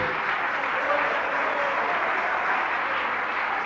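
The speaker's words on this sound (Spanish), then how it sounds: "y aplaudir." A church congregation claps together in praise during a Spanish-language service, a dense, steady wash of applause that sounds close and keeps up without pause.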